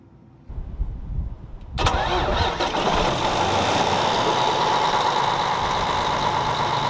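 A tractor engine cranks and catches around two seconds in, then settles into a steady, loud idle that runs without a break.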